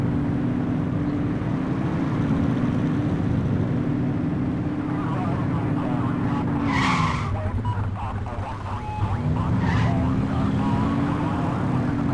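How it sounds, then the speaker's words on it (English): A police car siren from the video game The Precinct wails in slow rising and falling sweeps over a continuous engine and road rumble, with tire noise briefly breaking through midway. "Get on their tail and flip the siren."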